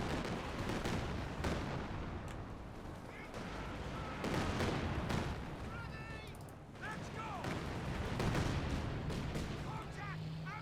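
Rockets and gunfire from a 4v4 Company of Heroes 2 match, with bazooka teams firing at a Jagdpanzer: dense bursts of explosions and shots in continuous loud layers, with a commentator talking over the battle.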